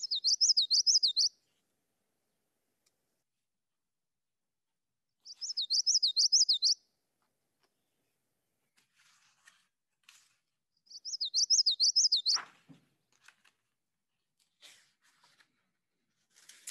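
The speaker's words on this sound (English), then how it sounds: "So the sounds you're going to hear here are the common yellow throat and the yellow warbler." Three separate bursts of songbird song ring out, identified as common yellowthroat and yellow warbler in southwest Ohio. Each phrase is a bright, rhythmic, repeated warble lasting about a second, with quiet gaps and a few faint chips between them.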